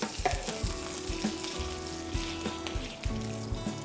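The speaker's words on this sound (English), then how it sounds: "I'm going to add in my green chilli and curry leaves." Green chillies and curry leaves hitting hot oil with fenugreek seeds for a Gujarati dish, a loud crackling sizzle with occasional stirring knocks against the pan.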